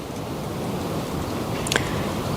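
Steady, broad rushing of strong, hot desert wind in the Chalbi Desert fills the whole clip, a constant noisy roar with a brief faint high-pitched sound near the end.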